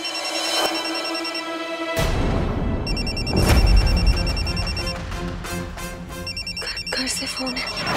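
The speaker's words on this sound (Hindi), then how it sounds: "घर से फोन है।" A telephone rings with a call from home, repeated electronic ring bursts cycling over a dramatic background score with a deep boom partway through.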